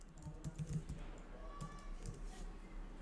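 Keyboard typing on a computer while writing Shopify API code, a short burst of soft clicking keystrokes up close, with a low steady hum underneath.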